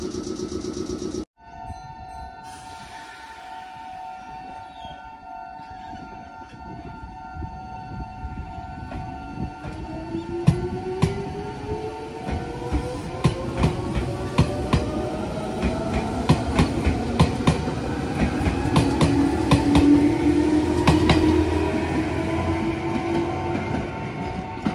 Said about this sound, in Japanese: こっちはあの高和線の普通列車ですね